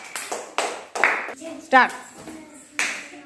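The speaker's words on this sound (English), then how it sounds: "Clap பண்ணுங்க எல்லாரும்." A group of children clap their hands during a luck game, a few short bursts of claps spaced apart, with a voice and adult talk breaking in between.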